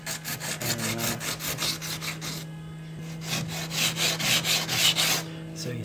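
Cloth-backed sandpaper rasps back and forth against a cracked fiberglass hatch on a Catalina 25 sailboat, in quick rhythmic strokes that are close and steady, pausing briefly midway before resuming.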